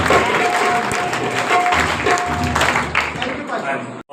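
Applause for a reverend professor at a one-day Christian church convention in Multan fills the hall, a dense, steady wash of clapping that holds loud throughout, then cuts off abruptly near the end.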